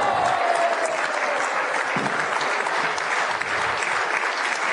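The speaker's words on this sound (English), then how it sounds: "the crowd just getting behind Robert Weale with that treble." Sustained applause from a crowd at the 2007 Welsh International Open lawn bowls final, steady and fairly loud throughout with a general crowd murmur underneath, greeting a three-shot treble.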